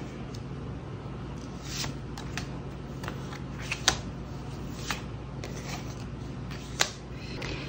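Tarot cards are shuffled and drawn in a quiet room. Soft paper slides and sharp card snaps come at irregular intervals, several crisp clicks standing out over a low steady hum, with no talking.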